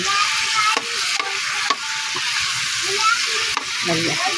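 Pre-boiled chicken adobo sautéing in a wok: a close, steady frying sizzle broken by several sharp spatula scrapes and stirring clanks, no talk.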